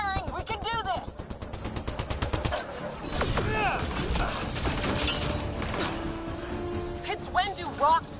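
Rapid bursts of sci-fi gunfire from a Mass Effect firefight, with mechanical clatter and sharp shots repeating over several seconds under excited voices.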